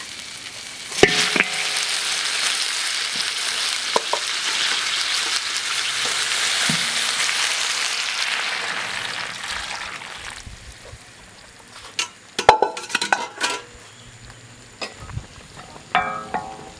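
Braised pig trotters sizzling in a pot as the sauce reduces, a steady bubbling hiss that fades midway, followed by a few close clanks and scrapes of a utensil in the pot.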